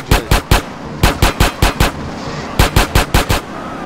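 Repeated gunfire in GTA San Andreas, sharp loud shots in quick bursts of two or three, about fifteen reports spread evenly across a few seconds with no talking.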